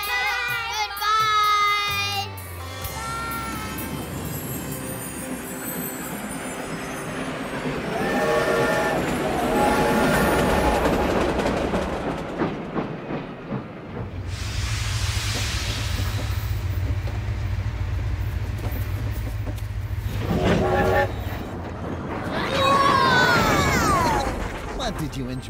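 A train in a children's travel program, rumbling and rolling along beneath bright music and voices, with a steady low hum through the middle and brief louder bursts.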